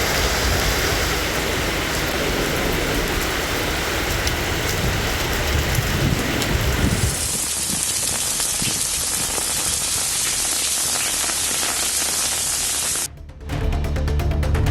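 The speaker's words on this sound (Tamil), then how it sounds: "சென்னை மற்றும் புறநகரில் இடி மின்னலுடன் விடிய விடிய மழை பெய்தது." Steady heavy rain pours down during a thunderstorm in Chennai, a dense loud hiss of drops on surfaces that continues throughout, with a brief dropout near the end.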